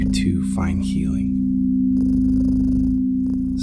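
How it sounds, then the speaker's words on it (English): A cat purring in a continuous low rumble, close and steady, with faint background tones and no clear speech. "with his loving purr and these healing vibrations"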